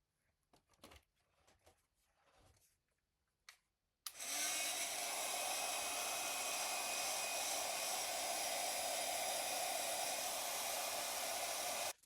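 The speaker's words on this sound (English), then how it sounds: "I'm going to hit them with my heat gun" Heat gun switching on with a sudden roar and then blowing a steady, broadband rush of air to dry watercolor-marbled panels, preceded by a few quiet handling taps and shuffles.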